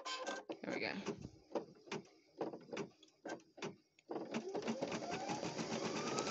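A Baby Lock Flare embroidery machine starts up and stitches in quick repeated mechanical bursts, close and fairly quiet, a short pause before it settles into a steady whirring run.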